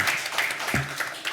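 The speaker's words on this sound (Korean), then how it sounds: "한번 우리 박수로 한번 축하하겠습니다" Congregation at a Sunday church service applauding to congratulate a member's daughter on her upcoming wedding: brief, moderately loud clapping, with a low thump partway through.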